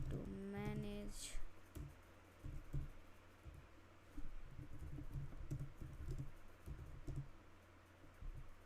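Quiet, uneven typing on a computer keyboard while an app description is entered, soft scattered key clicks in bursts against a faint room hum.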